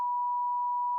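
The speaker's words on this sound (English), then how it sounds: "Oh, beep." A steady censor bleep from a podcast conversation plays as one pure, unbroken tone for about a second, alone and even in loudness.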